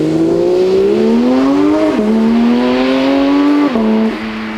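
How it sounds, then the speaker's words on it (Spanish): A Porsche GT3, still in its break-in period, pulls away hard from a standstill, its loud engine note climbing steadily and dropping briefly at two quick upshifts before easing off. "Ahora desde parado el sonido en salida del GT3."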